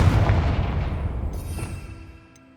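A Confringo blasting spell in Hogwarts Legacy goes off as a single loud, deep boom that rumbles and fades over about two seconds, with no talk.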